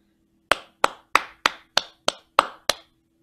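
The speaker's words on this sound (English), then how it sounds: "I'm gonna clap one of these three rhythms, either the purple one, the blue one, or the green one." Hands clap a short rhythm of eight sharp, close claps with slightly uneven spacing, each ringing off briefly in a quiet room, with no talking.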